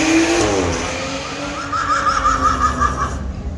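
Cars rev and race along a city street during a street gathering, engines rising and falling over several seconds with a brief tire squeal, heard from a moderate distance amid outdoor background noise.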